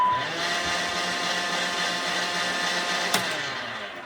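Greenworks 40V cordless cultivator with its electric motor running, a steady high-pitched whine and hum held close and loud throughout, marked by a single sharp click partway through.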